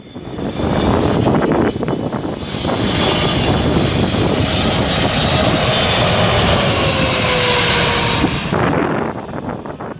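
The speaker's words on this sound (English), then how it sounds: "This Boeing 777 approaching lower than usual." Boeing 777 airliner on approach to land, passing lower than usual with a loud roaring engine rush that swells in, holds strongly for several seconds with a faint descending whine, then fades near the end.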